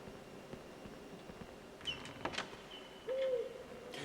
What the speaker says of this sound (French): Du coup je nourrissais juste les hiboux